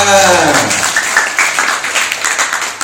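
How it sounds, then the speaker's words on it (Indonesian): Crowd clapping at an Islamic religious gathering, dense applause that swells in just after a spoken voice fades and then carries on steadily to the end. "Hebat, tepuk tangan semuanya."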